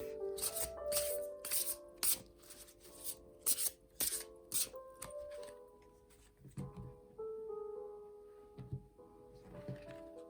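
Plastic tarot cards being shuffled by hand, close up, in a run of crisp riffling bursts that thin out into sparser taps and slides near the end, with no talking.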